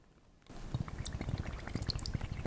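A bottle dipped into a container of water in a classroom demonstration gurgles and bubbles as air escapes, a busy run of small glugs and splashes starting after a brief quiet moment.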